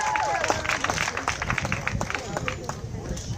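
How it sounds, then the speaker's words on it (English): A crowd at a bass fishing club event claps in a dense, steady burst of applause, with voices chattering underneath. "let's give them a round of applause"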